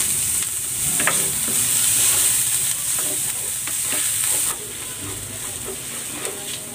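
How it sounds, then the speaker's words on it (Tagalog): Garlic and ginger sauté in a hot pan with a loud, close, steady sizzle, punctuated by repeated scrapes and taps of a utensil stirring, the hiss easing slightly in the latter part. "Magigisa na ako ng bawang at ng luya."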